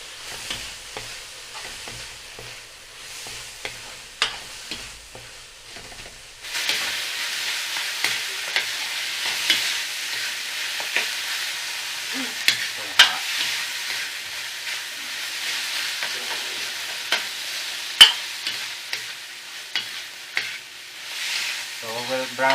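Pasta browns in a pan for carbonara, a soft steady sizzle that jumps louder partway through, with scattered clicks and scrapes of stirring and no talking.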